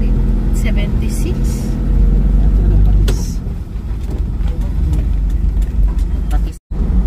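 A car moving slowly in heavy Friday traffic near the Bicutan exit, steady engine and road rumble inside the cabin with passing vehicles, fairly loud throughout, a brief dropout near the end.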